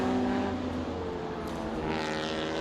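A race car engine roars hard and steady at the Sydney 300 endurance race, a loud sustained high-revving drone with a faint pass-by sweep near the end.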